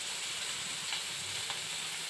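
Surmai kingfish steaks fry in a pan over a low flame, giving off a quiet, steady sizzle with a couple of faint pops and nothing else.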